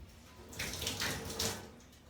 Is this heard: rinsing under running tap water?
yes